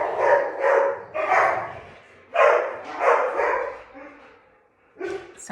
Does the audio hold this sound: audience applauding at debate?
no